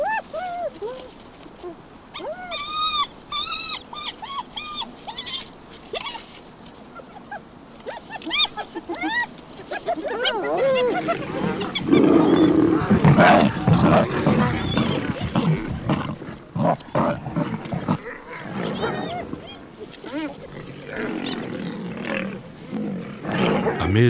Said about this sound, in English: Amid all the spitting and snarling, the lioness judges that the contestants are preoccupied enough for it to be safe to join in.